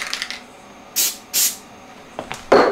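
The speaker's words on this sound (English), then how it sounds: "I'm going to spray it down because I don't want to get none on the hoodie." Short bursts of a spray bottle misting fabric before a hoodie applique, two firm hissing sprays followed by a quicker, louder spurt, alone with no talk.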